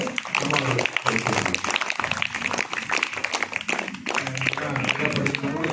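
An audience at a school gathering claps, a dense burst of applause mixed with voices and rising and falling over several seconds.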